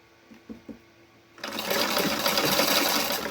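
A sewing machine stitches a fabric band onto a dish towel, starting after a few soft handling taps and running as a loud, steady, close buzz to the end.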